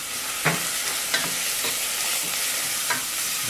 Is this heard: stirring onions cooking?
yes